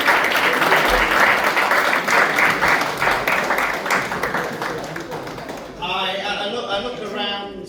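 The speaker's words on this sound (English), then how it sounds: "Give them a huge round of applause." Loud, dense applause from an audience at an African fashion show exhibition in Leeds, greeting the designers; continuous clapping for several seconds, then thinning as voices and cheers come through near the end.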